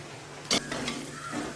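Chili powder dropped onto prawns frying in a pan for a bottle gourd curry, a brief close scrape and clink of a spoon stirring over a soft sizzle, no talk.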